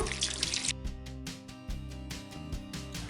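Cold water is poured into glass jars standing in a cloth-lined pot, a gushing splash at first that gives way to irregular dripping and trickling close by, with no talking.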